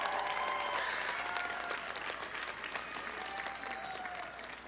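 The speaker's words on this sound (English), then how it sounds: "let's give them one more round of applause" A crowd claps steadily throughout at a Fanfare of Lights countdown event, the dense, even applause fading slightly toward the end with faint whistles or shouts mixed in.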